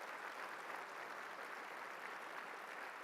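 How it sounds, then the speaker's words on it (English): Applause for sponsors at the HopeBuilder Lunch 2026 fundraiser, a faint, even wash of clapping from a distant crowd with no break. "Let's show a round of applause and appreciation for all of our sponsors."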